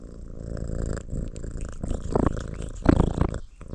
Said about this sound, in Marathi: गुरगुर चालू आहे तिचा